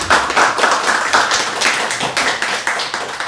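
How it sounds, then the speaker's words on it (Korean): Church congregation clapping in thanks after a sermon, a close, rhythmic patter of hands in steady pulses with no talk over it. "말씀 전해주신 김보세 목사님께 감사의 박수를"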